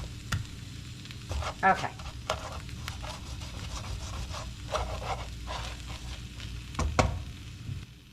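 Texas hash toasting in a pan, a steady sizzle broken by repeated scrapes and taps of a utensil stirring, close, with a brief spoken word early on.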